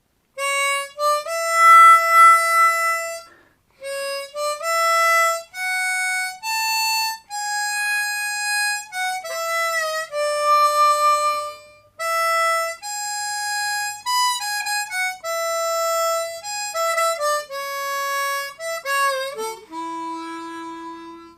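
A slow melodic line of sustained reed-like harmonica notes from a song's solo, one at a time with short gaps, played clearly on its own with no voices.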